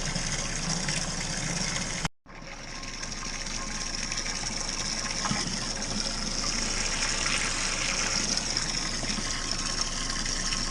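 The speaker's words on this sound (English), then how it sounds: "as we started to fill the kettle" Water rushes steadily from a potable water hose into a home-brewing kettle, a constant loud gushing with a hum. After a brief abrupt cut, the flow resumes and continues unbroken.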